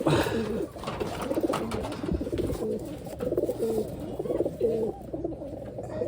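Wantai pigeons, medium to big birds, coo repeatedly in a close, steady chorus that runs through the whole clip with no pauses, and other bird calls blend into it.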